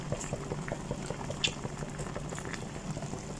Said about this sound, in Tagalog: Ayan, kumulo na siya.